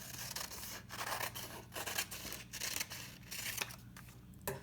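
Scissors snip repeatedly through excess paper after a square is folded for an origami ninja star, a close, steady series of crisp cuts with slight rustling and no voices.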